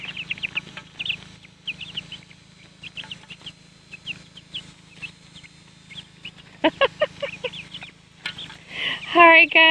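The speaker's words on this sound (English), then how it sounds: "I'm loving the little peeping sounds." Young chicks recently moved from a brooder to a garden peep in high, short chirps scattered throughout, growing busier and louder toward the end over a low steady background hum.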